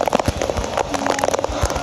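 A heavy rain shower pours down at Ilgwang Beach in Gijang, a dense, steady hiss of falling rain broken by sharper splashes and taps throughout, fairly loud and close.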